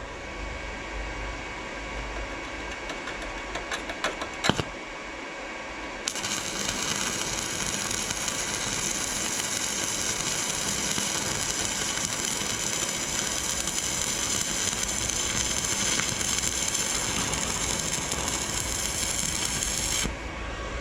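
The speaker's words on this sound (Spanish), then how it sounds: "bajamos un poco la máquina porque vamos a soldar material fino con material grueso" A Sincrolamp inverter welder joining thin sheet to thick metal at reduced power: a steady, hissing, crackling arc runs for about fourteen seconds after a brief click and short pause, fairly loud and continuous.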